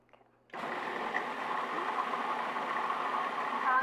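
A blender whirs into life after a brief quiet start, running steadily as it blends a rice milk cheese sauce, a continuous close, mid-loud motor whine.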